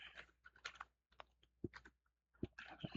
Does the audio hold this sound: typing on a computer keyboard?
yes